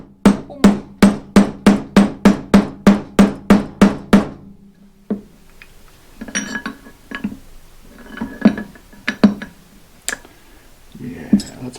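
A hammer tapping a reloading press part during disassembly, a fast regular series of about a dozen loud metallic strikes, then scattered softer clinks and knocks with a voice talking.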